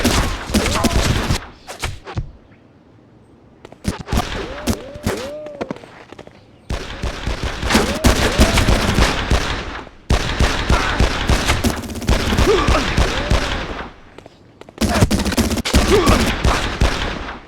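Repeated bursts of automatic gunfire and single shots from the video game Made Man ring out loud and close, broken by brief lulls, with voices calling out between volleys.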